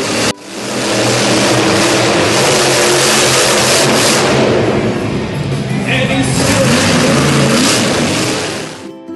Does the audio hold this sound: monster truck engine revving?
yes